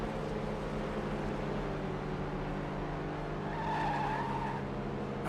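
Continuous engine drone of a car racing through a nature course in Hot Wheels World Race, with a steady hum and a skidding, tire-squealing rise near the end, with no voices.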